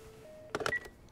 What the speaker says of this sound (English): Let's touch that phone one more time.